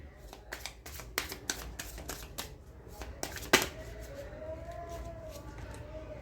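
Tarot cards riffle and slap in a quick series of sharp shuffling bursts, close and crisp, during a reading session, settling into quieter handling toward the end.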